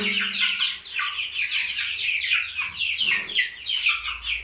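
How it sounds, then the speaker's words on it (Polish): A busy chorus of clucking and chirping guinea fowl and free-range chickens in a cardboard box, continuous, overlapping calls close by with a brief low hum at the start. "Jeszcze mam w drugim kartonie perliczki i trochę kurczaków."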